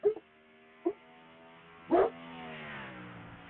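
Three short, sharp dog barks come from the background at spaced intervals, the last one the loudest, over a steady droning engine hum.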